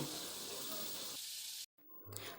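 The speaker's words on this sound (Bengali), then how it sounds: "মাছ ভাজার যে তেলটা আছে তার মধ্যে আমি একটু রসুন কুচি দিয়ে দেব।" Steady loud sizzling of chopped garlic frying in leftover fish-frying oil, then a brief cut and the sizzle returning.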